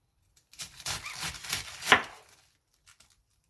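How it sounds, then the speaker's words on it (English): A knife slices keto Reuben slaw ingredients into thin, roughly centimeter-wide strips on a cutting board: a quick run of close, rhythmic chops ending in one firmer cut, then a couple of faint taps, with no voices. "So we're just cutting it into smaller, thin strips, maybe a centimeter size each row."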